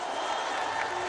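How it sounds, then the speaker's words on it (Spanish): Crowd at Mexico's December 2018 presidential inauguration ceremony applauds, a brief wash of clapping and murmuring voices heard at a moderate distance. "Un aplauso para ellos"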